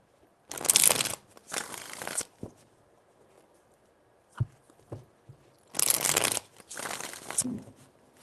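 Tarot cards being shuffled in four distinct bursts of riffling and rustling, close and fairly loud, separated by quiet pauses with a few soft taps and knocks between them.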